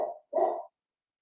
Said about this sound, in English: someone's here because the dog's barking upstairs